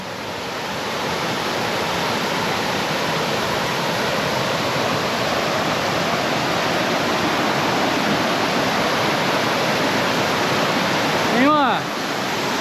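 A powerful waterfall cascading in strong volume on a hiking trail, roaring as a loud, constant broadband wash that fills the whole clip, close by and steady, with a brief chirp near the end.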